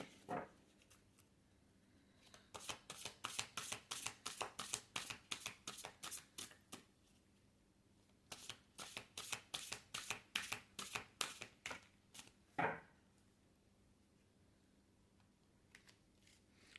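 A deck of cards is shuffled in two long riffle bursts of rapid, crisp flutters, close and fairly quiet, with short pauses and a single tap between runs and no voices.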